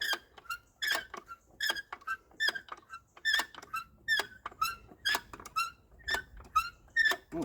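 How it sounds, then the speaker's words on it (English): A repeated, high-pitched squeak sounds as a Ruston PB9 engine is jacked up on a block of wood, about a dozen short, sharp chirps in steady rhythm, faint and close with nothing else in the background. "Oh, we've got a squeak on."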